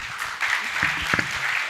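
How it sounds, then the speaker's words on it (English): A conference audience applauds panelists at the close of a finance discussion, with dense, steady clapping throughout. A voice speaks briefly over it partway through. "A huge round of applause for our three gentlemen."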